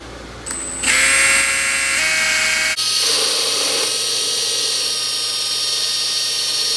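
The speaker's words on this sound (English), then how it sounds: "Now we're getting ready to drill the through hole in the transom." A power drill with a 5/8 paddle bit spins up and bores through a boat transom, a loud close whine that steps up in pitch, then shifts to a steady grinding drone as the bit cuts.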